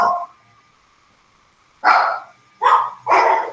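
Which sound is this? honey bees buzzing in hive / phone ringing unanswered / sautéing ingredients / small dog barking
small dog barking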